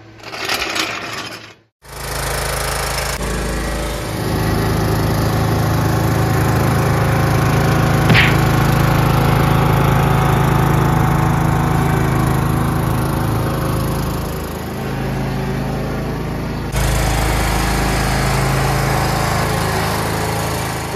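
A John Deere Z225 zero-turn mower engine runs loud and close with a steady high buzzing drone, briefly cutting out near the start, then running on with a slight dip and a jump in level late on.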